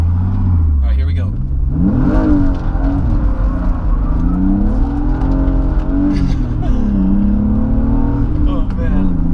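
A car on drift tires slides with a loud, close engine revving up and down in pitch over several seconds, tire noise mixed in, while a person talks over it.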